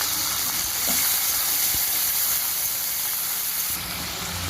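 Shrimp fry in hot oil over a tempering of cumin seeds and dried red chilli, giving a loud, steady, hissing sizzle that holds throughout, with a few faint clicks and no talking.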